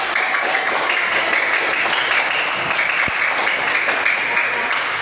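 A class of students claps together in a steady round of applause for about five seconds, with a single sharp knock partway through.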